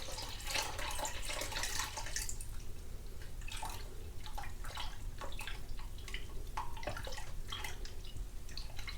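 Cold water pours and splashes into a cup in a kitchen while making homemade popsicles, a soft continuous trickle with irregular drips and splashes, faint and close, with no talking.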